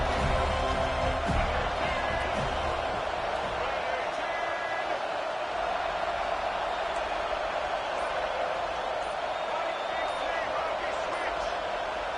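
A loud, continuous roar of a large stadium crowd at an Ole Miss at Florida State football game fills the space, steady throughout with faint thumps and voices mixed in.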